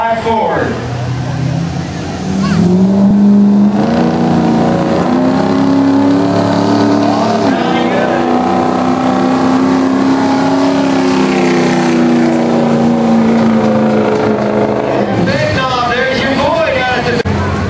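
A 2005 Ford pulling truck roars at a truck pull event, the engine rising to a loud sustained high-revving howl for over ten seconds before dropping off, with an announcer talking over the crowd noise.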